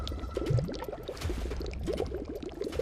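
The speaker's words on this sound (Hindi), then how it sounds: "हमने ध्यान से सुना, ये शायद पानी बहने की आवाज थी।" Water flows and gurgles deep inside a cave, a steady low bubbling and trickling wash that stays faint and continuous without any talking.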